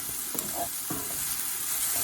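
Vegetables for Hakka noodles stir-frying in a pan, giving a steady hissing sizzle with a few light scrapes and taps of a utensil, close and even.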